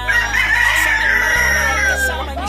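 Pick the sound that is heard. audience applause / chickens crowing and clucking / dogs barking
chickens crowing and clucking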